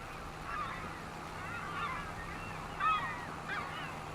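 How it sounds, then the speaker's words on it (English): Seagulls from a seagull mod in Farming Simulator 25 give repeated squawking calls over a steady low background hum, moderately loud and without talk. "the seagulls are a little loud"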